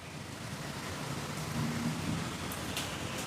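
Steady rain falls with a low rumble of thunder rolling through the middle, a continuous wash of noise with a few brighter drops or crackles near the end.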